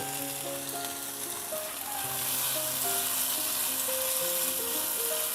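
Rui fish masala with spices sizzles and fries in a pan over medium heat, a dense crackling hiss that stays close and steady throughout, with no talking.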